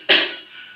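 A single forceful, spontaneous cough during a breathing exercise for effective coughing, delivered after shoulders are raised and the chest relaxed; one sharp close burst that fades quickly.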